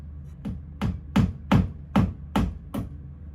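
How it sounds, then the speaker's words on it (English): Seven sharp hammer blows ring out at an even, steady pace, close by, with a quiet pause between each strike. "Hammer."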